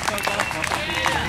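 Audience applause and cheering for a band's lead singer at an evening show, a dense steady wash of clapping from a crowd with mixed voices throughout the short burst.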